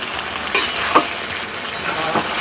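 Country chicken pieces sizzle and hiss in hot oil as they are sautéed for a village-style curry, a loud steady frying crackle with a few sharp scrapes from stirring.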